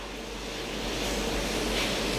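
Tsunami seawater rushing into a street after an earthquake in the Aegean, surging steadily, a broad roaring wash that swells slightly louder over a couple of seconds, no voices.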